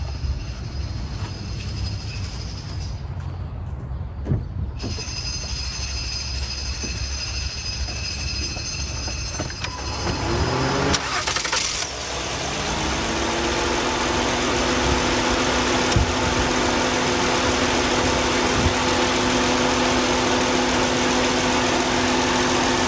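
A car engine cranks briefly during a battery test, then catches and settles into a steady, loud idle hum that continues without pause; no one speaks.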